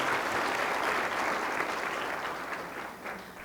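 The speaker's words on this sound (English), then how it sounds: "Let's give the Chamber another round of applause." Audience applause for the Chamber at a 2019 State of the City address, a dense, even wash of many hands clapping in a hall that slowly tapers off.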